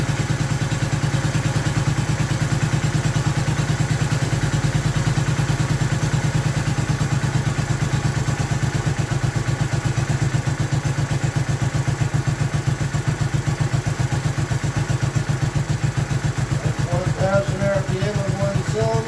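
A Honda 450 twin-cylinder motorcycle engine idles steadily and loudly up close, with an even, throbbing pulse throughout and a faint voice partly underneath.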